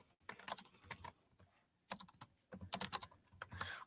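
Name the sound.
typing on a computer keyboard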